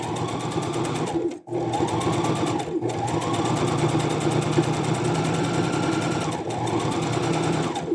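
Close and loud, a sewing machine runs continuously while stitching around a fabric scrunchie bin, its whirring motor broken by a few brief pauses and speed changes, with no speech.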